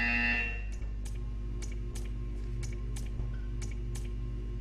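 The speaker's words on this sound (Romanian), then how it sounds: "You will hear a buzzer. When you hear the buzzer, stare at the art." A short, harsh electronic buzzer sounds once at the start in a Portal 2 test chamber, followed by faint, irregular clicks over a steady low machine hum.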